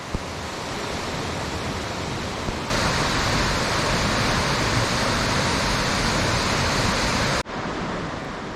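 A river rushes beside a mountain trail on Mt. Ishizuchi in Japan, a dense, steady roar of flowing water that swells louder partway through and continues unbroken, with no voices.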